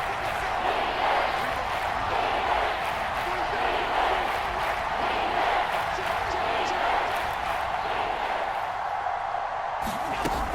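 Seahawks home stadium crowd noise in a football video game during a red zone third down, a loud sustained roar of cheering and shouting with bursts of noise, no clear commentary over it.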